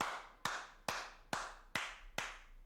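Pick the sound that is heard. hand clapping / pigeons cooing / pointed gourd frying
hand clapping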